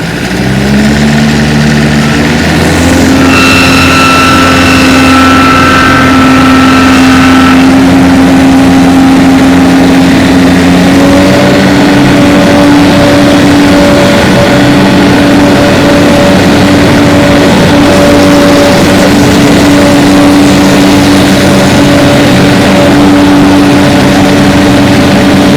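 A 2007 Finn B70 skid-mounted straw blower engine runs steadily at idle with its twin disc clutch engaged, a loud continuous mechanical drone with a steady hum throughout.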